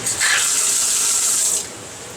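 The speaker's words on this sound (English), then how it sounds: "I have another return with a gate valve to let water in here." Water rushing from a gate valve return line into the refugium of a 240-gallon custom reef aquarium, a loud close hiss of flow that starts abruptly and cuts back sharply after about a second and a half, no voices.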